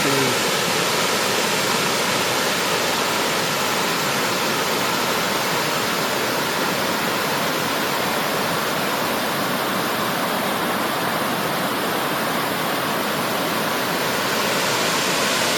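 Water pours steadily over an old weir in rural Pai, Thailand, a dense continuous rushing roar that stays close and loud throughout with no voices.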